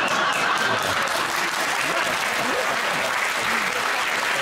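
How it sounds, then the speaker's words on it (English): A large studio audience applauds steadily, a dense wash of clapping that stays loud for several seconds without pause. "that is one of the most inappropriate rounds of applause I've ever listened to"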